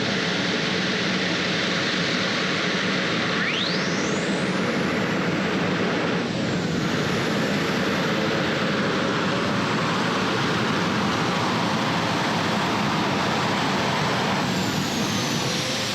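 The Judge Next Generation super modified pulling tractor, driven by Brad Bargy at the 2017 Hillsboro pull, roars at full throttle in a loud, dense, unbroken engine blast that holds for the whole stretch.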